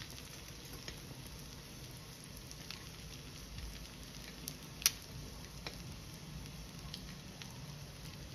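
Egg-dipped bread fries in a pan with a steady, quiet, even sizzle and one sharp tick partway through; no voices.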